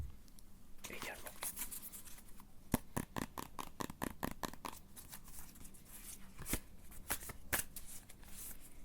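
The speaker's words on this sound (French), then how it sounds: "si je regarde pas les cartes quand je les mélange, j'accroche" Tarot cards are shuffled in bursts of crisp riffling and snapping, close and soft in a quiet room, with gentle whispered speech between.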